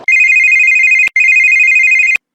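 Two long electronic telephone rings from a cartoon comedy sketch, each a steady bright buzzing tone lasting about a second, separated by a short gap and ending with a click; loud and alone with no talk.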